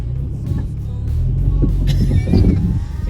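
A Mitsubishi Mirage's underbody scrapes and grinds over big rocks on an old deactivated road, a low rumbling drag with scattered crunches and knocks close by under the engine.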